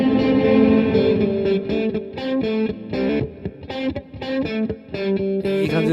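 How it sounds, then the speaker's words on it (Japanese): Guitar playback with a reverb effect applied in Universal Audio LUNA recording software, distorted chords and notes ringing out with a washy tail between phrases, no talking. "ここでもう今リバーブがいるので、これ選んでいきます"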